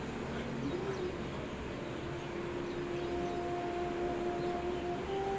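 A bird calls with steady, drawn-out cooing tones over a constant outdoor hum, moderately distant and continuous throughout.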